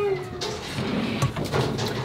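Kittens meowing at an animal shelter, a couple of short, thin mews close by among background clatter and faint voices.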